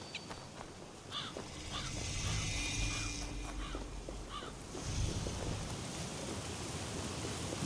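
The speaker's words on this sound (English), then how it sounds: "Beautiful looking waterfall." A high waterfall in Vinland in Assassin's Creed Valhalla gives a steady, broad rushing roar that fills the scene, with faint game sounds scattered on top.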